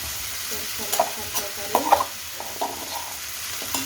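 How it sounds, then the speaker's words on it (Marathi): Leftover cooked rice with turmeric, salt, onion and green chilli is stir-fried in a pan, producing a low sizzle broken by several scraping, clinking stirs up close. "आता हा भात चांगला आता हा भात छान असा खालीवर सगळा मिक्स करायचा हळद मीठ सगळं टाकलेलं आहे कांदा वगैरे छान असं मिक्स करून परतून घ्यायचं"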